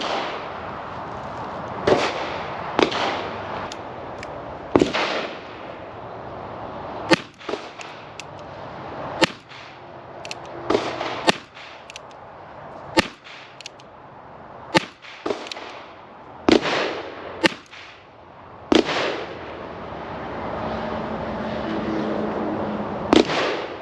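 Revolver shots at an outdoor shooting range, a series of loud sharp cracks spaced irregularly, some in quick pairs, each trailing off into a brief echo.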